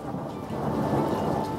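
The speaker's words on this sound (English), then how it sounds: "it only takes a rumble of thunder and a summer rain shower" A low rumble of thunder rolls under a steady hiss of summer rain falling on a climbing frame. The sound is continuous and fairly close, with no voices.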